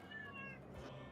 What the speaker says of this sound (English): She's not a rat, but a cat.